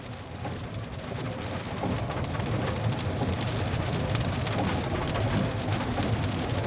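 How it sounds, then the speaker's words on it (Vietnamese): Steady, dense rain falling all day along a rural roadside in Vietnam, a continuous even hiss close by with no pauses. "Bữa nay là mưa dầm nguyên ngày nha"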